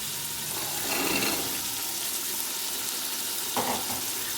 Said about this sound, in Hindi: मटर और गोश्त की अच्छे तरीके से भुनाई कर दूँगी।